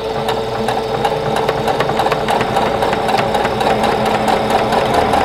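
Sewing machine stitching quilt block fabric pieces in a chain, a fast, even, close mechanical rattle with regular needle ticks running steadily throughout, no talking.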